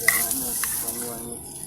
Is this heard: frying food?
yes